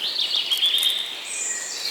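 Birds sing in a forest in Alsace with high, thin chirps and warbling phrases that carry on steadily for a couple of seconds, moderately close, against a quiet background.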